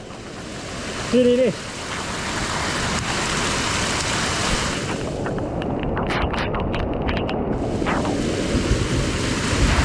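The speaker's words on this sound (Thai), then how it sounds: "ดูน้ำมันไหลมาทุกคนดูน้ำมันไหลมา" Floodwater from a flash flood rushes downhill on a mountain slope in a steady, broad roar that lasts the whole stretch, with brief voice sounds and wind buffeting near the microphone.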